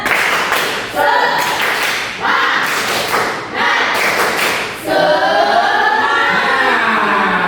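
A classroom of children claps out the rhythmic 'tepuk semangat' chant in several loud bursts of synchronized claps and thumps, separated by short gaps, ending in a rising ripple of voices.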